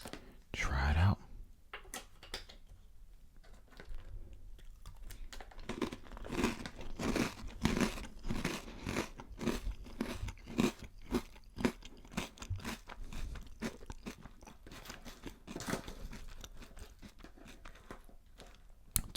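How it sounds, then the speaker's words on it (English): Crunchy cinnamon breakfast cereal being chewed close to the mic, a steady run of crisp bites and crunches with soft whispering and mouth sounds throughout. "all that's left to do now is to go ahead and eat it."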